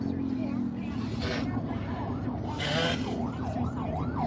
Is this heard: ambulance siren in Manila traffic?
yes